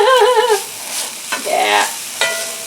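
A spoon stirring spaghetti sauce in a pan makes a few close scraping strokes over a soft sizzle, with a brief tonal clatter at the start.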